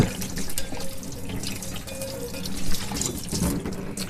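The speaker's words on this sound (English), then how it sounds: "let's give it a quick rinse, so just so you can have a look without all the soap all over it" Tap water splashes and rinses over a soapy 1985 Paiste Formula 602 Blue Label hi-hat cymbal in a sink, a close, steady running stream with small drips and no talk.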